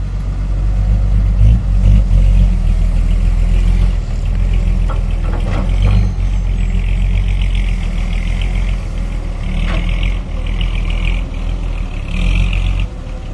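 A heavy ten-wheel truck's 320-horsepower diesel engine rumbles and revs continuously up close while climbing a stream bed and pulling stumps, loud and rough, with clanking and a hiss of air brakes.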